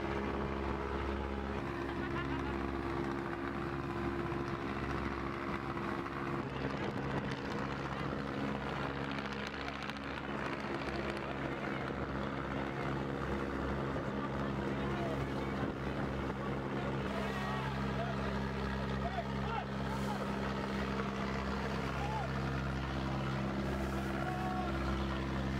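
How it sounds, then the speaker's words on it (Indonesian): Fishing boats and navy patrol boats running their engines at sea during a sea offering festival at Asemdoyong, Pemalang, a steady droning hum with wind buffeting the microphone throughout. "Selain dari kapal nelayan juga ada kapal patroli dari TNI Angkatan Laut"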